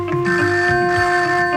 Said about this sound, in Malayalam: എത്ര നേരമായി ഫോൺ അടിക്കുന്നു